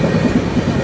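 The Tamil Nadu Express AC train from Chennai Central to New Delhi runs along, a loud, close, continuous rumble of wheels on rails heard from on board.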